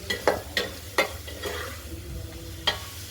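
Ginger-garlic paste and tomato paste frying in a pan, stirred with a utensil: several sharp scraping strokes over a low, steady sizzle, close and fairly quiet, with no talking.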